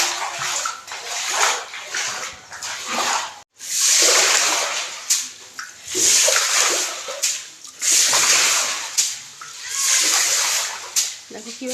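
Water splashes and sloshes loudly in repeated bursts as a flooded stairwell room is bailed out, the scooping strokes coming in an uneven rhythm with brief pauses, while a person speaks intermittently between the splashes.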